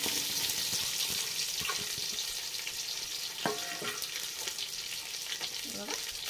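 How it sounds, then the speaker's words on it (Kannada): Chopped onions frying in hot oil for an egg dum biryani with basmati rice, a faint, steady sizzle with occasional spatula scrapes and a few light clinks, somewhat distant. "ಉಳ್ಳಾಗಡ್ಡೆ ಹೆಚ್ಚಿಟ್ಕೊಂಡೇನ್ರಿ ಇಲ್ಲಿ, ಇವನ್ನ ಅದ್ರೊಳಗೆ ಹಾಕೊಂಬಿಡೋಣ ಫ್ರೈ ಮಾಡ್ಕೊಳ್ಳೋಣ್ರಿ."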